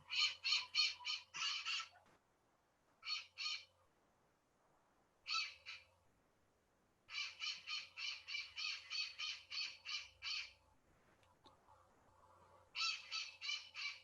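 Bursts of harsh, rapid parrot squawking calls come in repeated rattling series with short pauses between, loud and close against an otherwise quiet background.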